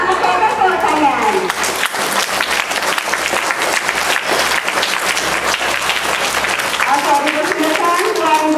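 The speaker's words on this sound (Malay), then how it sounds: "Kita tepuk tangan." An audience claps steadily at a school reading program launch, a dense, loud, continuous round of applause with a few voices calling out over it.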